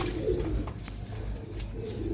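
A pearl-marked pigeon coos softly among other birds at a pigeon sale, with low murmuring calls under faint background noise and no speech.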